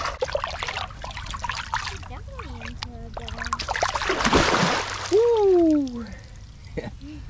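A bread-caught carp splashes back into the Chicago River on release, one brief, loud burst of water in the middle, with people talking before and after.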